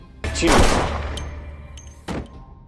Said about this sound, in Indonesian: Tiba-tiba, si Montero muncul melepaskan tembakan yang mengarah ke dokter Levinson.